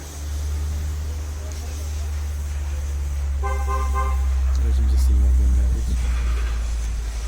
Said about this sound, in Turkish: Uzaktan çalıştırmayı deneyelim.